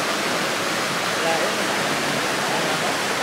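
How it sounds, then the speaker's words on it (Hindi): Constant rushing roar of Tanda Waterfall in Mirzapur at low flow, a steady wash of noise with no breaks, heard from a moderate distance. "पानी की मात्रा जो झरनों से गिर रही है काफी धीमा गिर रही है"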